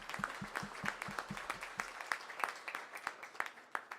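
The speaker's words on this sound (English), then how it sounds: "Let's give them a round of applause." Sparse applause at a Baltimore mayoral announcement on summer youth funding, a small group clapping in distinct, fairly regular claps that stay faint and thin across a few seconds.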